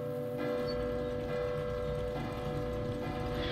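A loud, resonant bell rings out in the video game Resident Evil 2 Remake, with sustained metallic tones that hang and overlap over a low background hum and rain.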